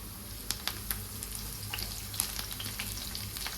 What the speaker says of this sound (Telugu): అవి కొద్దిగా వేగనివ్వాలి ఇందులోనే ఒక మూడు పచ్చిమిర్చి ఒక మూడు ఎండుమిర్చి కొద్దిగా కరివేపాకు